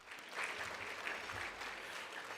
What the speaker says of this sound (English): Round of applause for Alejandra, everybody.